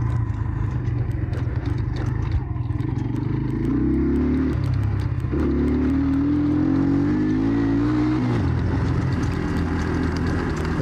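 An enduro motorcycle with a carburettor and a swapped-in engine idles and revs in a continuous loud drone, its pitch rising and falling unevenly as if stumbling and misfiring, close by with no talk.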